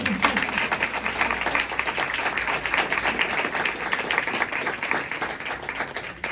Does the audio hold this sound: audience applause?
yes